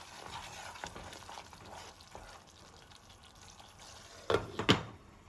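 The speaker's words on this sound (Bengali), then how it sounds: "মশলাটা একটু ঢেকে ঢেকে ভেজে নিচ্ছি" Spice paste of ground coriander, cumin and salt fries in a covered pan, a quiet low sizzle that continues steadily before a couple of sharp clatters near the end.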